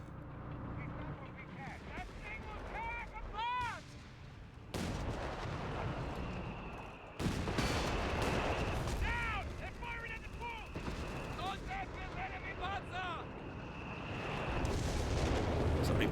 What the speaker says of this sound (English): But you can see how kind of easy it is to dodge the bishop fire.